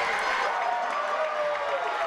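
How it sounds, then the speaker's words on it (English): A football crowd at Harmon Field roars steadily and densely, a loud sustained cheer with no breaks. "The crowd is on its feet here at Harmon Field."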